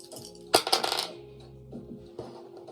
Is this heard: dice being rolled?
yes